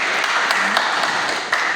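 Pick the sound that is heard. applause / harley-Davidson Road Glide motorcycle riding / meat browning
applause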